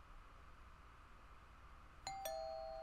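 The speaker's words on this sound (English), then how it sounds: "Why did he press the doorbell?" A doorbell in the horror game Fears To Fathom chimes twice near the end, two bright ringing tones with a lingering decay following a quiet stretch of low room hum.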